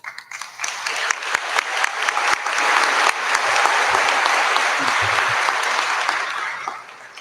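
An audience at a scholarship ceremony applauds foundation members, clapping swelling to a full, steady wave and then tapering off near the end.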